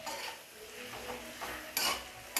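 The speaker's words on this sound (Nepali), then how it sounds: "राम्ररी चलाइदिने।" Goat liver cooks in a pan with ginger-garlic paste and is stirred, giving a soft sizzle and scraping with a couple of sharper utensil clatters near the end.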